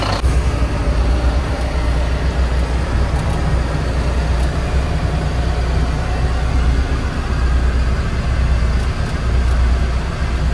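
A Bharat Benz truck driving along the road, its steady engine drone and road rumble continuous and loud throughout, with no talk over it.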